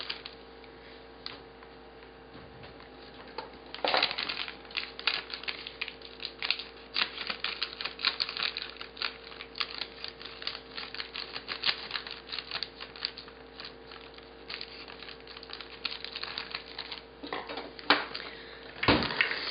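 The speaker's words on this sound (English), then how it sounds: "we're just going to add this whole bag of chocolate chips" Chocolate chips from a whole bag pour into cookie dough in a kitchen, making a steady, dense patter of small hard pieces. A few louder rattles and clicks break through, and no one speaks.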